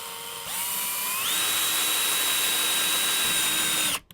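A power drill with a Phillips head bit drives a screw into a cymbal wall mount, its motor whine starting low and then rising to a steady high pitch for about three seconds before cutting off abruptly.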